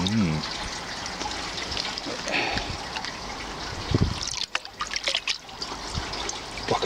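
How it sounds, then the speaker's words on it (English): Water trickles and splashes as a copper-electroplated motorcycle part from a converted Triumph Daytona is dipped and rinsed in a small bucket, with sloshing close by and a person talking over it. "Take it out to the water. Dip it in the water. Just to give it a wee clean."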